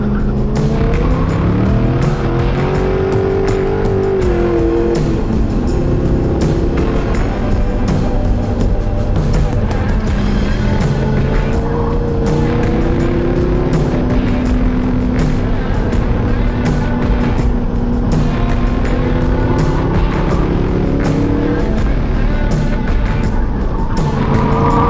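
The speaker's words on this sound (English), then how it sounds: "It's pretty much squealing and I end up drifting." Z06 Corvette on a race track, engine roaring loudly throughout while its tires squeal in long pitched wails as the car drifts through corners, with brief voice sounds under the noise.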